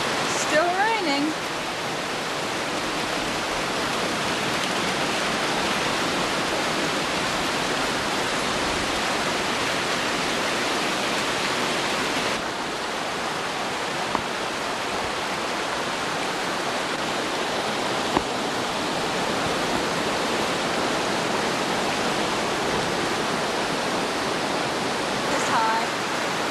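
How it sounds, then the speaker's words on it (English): Steady, dense rain falls during a 1994 flood, a continuous broad hiss that holds unchanged for nearly half a minute. "Still raining."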